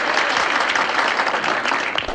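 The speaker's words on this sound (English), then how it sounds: "Big round of applause for Martha." A brief, dense burst of applause from an audience for Martha, loud and close, filling the whole moment without any talk over it.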